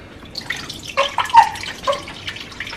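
Coconut milk poured from a can into a pot for jerk chicken and rice makes a series of close, wet drips and glugging plops over a couple of seconds, with no talk.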